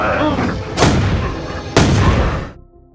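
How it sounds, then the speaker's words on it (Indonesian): Two sharp, loud pistol shots about a second apart in a zombie film, each a broadband crack followed by a short decaying rumble over a dense movie soundtrack that cuts out at the end. "Claudio terpaksa pakai pistolnya, nembak Marcel yang udah jadi zombie"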